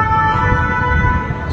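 Ambulance and fire engine sirens wail continuously after an attack in France, steady high tones sounding moderately close above a dense low rumble of traffic and street noise, with no voices.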